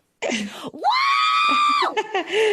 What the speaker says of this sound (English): Screech for us.